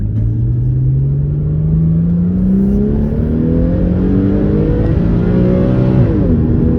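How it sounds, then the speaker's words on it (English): A Porsche Cayman 981 S engine revving steadily higher in automatic as it accelerates through the gears, a loud continuous rising whine with a brief dip near the end. "So even in automatic, it revs out all the way to the top"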